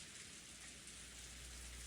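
Steady rain falls in the Umineko video game, a soft, even hiss of drops with no pauses or louder spikes, heard alone at a faint, distant-sounding level.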